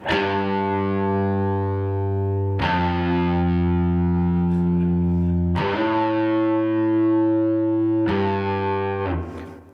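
Electric guitar plays a sustained, distorted part through effects, four loud ringing chords struck one after another and each left to hold for a few seconds, with no talking.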